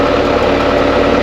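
A tractor engine runs steadily during Christmas tree planting, a loud continuous drone heard close up from the cab with slight vibration and no pauses.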